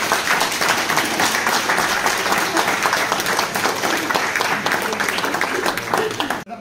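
A church-hall audience applauds in a dense, sustained burst of clapping that fills the whole stretch before stopping abruptly at the end.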